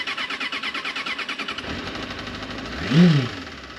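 A Honda VFR sport motorcycle engine idles with a steady pulsing throb, then revs up in one rising and falling swell near the end, close and fairly loud.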